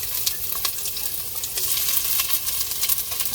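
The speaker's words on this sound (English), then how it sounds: "So I'm gonna start cooking my pumpkin now." Pumpkin cooking in a pot for curry, a steady close sizzle and frying crackle with repeated scraping strokes of a spoon stirring it, no voices.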